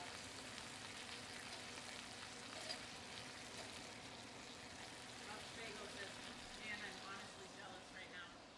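Strips of bacon fry steadily in a pan, a continuous soft crackling sizzle with faint stirring, close by and moderately quiet throughout, with occasional talk over it.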